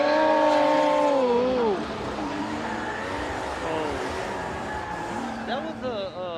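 Drift cars at Formula Drift Japan in Ebisu, engines revving high and swooping in pitch as they slide through a run, with tire noise underneath and commentators talking over the top.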